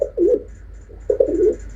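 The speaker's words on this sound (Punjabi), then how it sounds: "ਇਹ ਵੱਡਾ ਕਬੂਤਰ ਬਈ" A large pigeon coos close by in two throaty, rolling phrases separated by a short pause, with a soft background hum and no voices.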